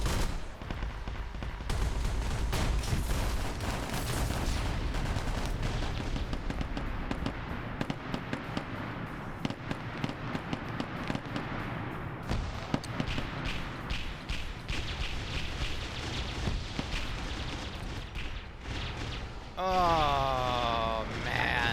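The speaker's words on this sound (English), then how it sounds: "Oh, that's a grenade." Constant gunfire and a grenade explosion in a Warhammer 40,000 battle video game with a 31st Steel Legion force, heard as dense, unbroken booms and shots across the whole stretch, with a voice talking briefly over it.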